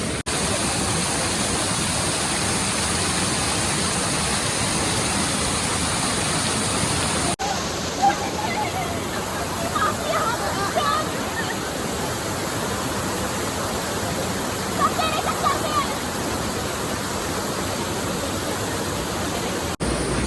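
Steady rushing roar of a mountain stream and waterfall in Rishikesh, loud and continuous throughout with no pause, a brief change in tone partway through.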